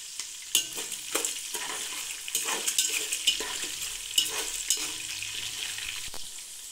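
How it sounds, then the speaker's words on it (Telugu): Green chilli pieces fry in oil in a pan with a continuous close sizzle. Scattered crackles and stirring scrapes punctuate it, and no one speaks. "ఈ పచ్చిమిరకాయలు కూడా దోరగా వేగనిద్దామండి"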